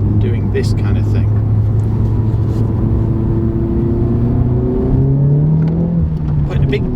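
A facelifted 2021 Honda Civic Type R FK8 hot hatch drones steadily under load while driving, its engine note rising and shifting pitch as revs climb, a loud continuous cabin-like hum throughout.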